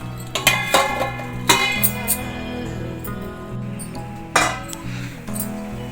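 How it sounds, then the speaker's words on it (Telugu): Metal lid set onto a pot of ridge gourd and moong dal, giving several sharp clinks and rattles up close, with a louder clatter near the end as it settles, no talking. "మూత అయితే పెట్టేస్తున్నాను"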